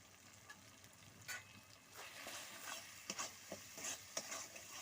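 A spoon scrapes and stirs potol (pointed gourd) and prawn curry in a pan with soft, intermittent strokes and light sizzling, quiet and close.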